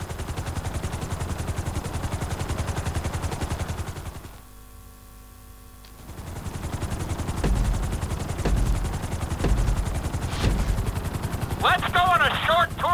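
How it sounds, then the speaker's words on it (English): A helicopter flies in Grand Theft Auto V's flying school. Its rotor drones steadily and loudly, dropping out briefly midway, with a few sharp bangs and mechanical sounds mixed in. "we're gonna put you in a helicopter for this lesson"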